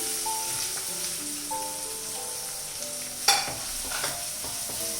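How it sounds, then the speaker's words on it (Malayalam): Onion and green chilli sauté in a pan for corn cheese samosa filling, giving a soft steady sizzle with light stirring scrapes and one sharp clatter near the middle. "സവാള ഒന്ന് വഴറ്റിയെടുക്കാം"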